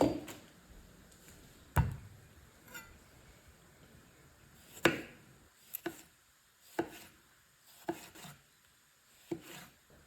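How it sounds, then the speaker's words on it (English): Knife slicing through a tomato on a board, a handful of separate crisp cuts and taps spread out over about ten seconds, close by and moderately loud with quiet gaps between them. "Tomato slicing time."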